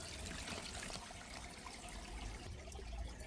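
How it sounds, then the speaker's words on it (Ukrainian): Small stream of water trickling steadily into a garden fish pond, a continuous close babbling wash with no voices. "І ось так такий потічок в нас, струмочок. І це все стікає далі у ставок."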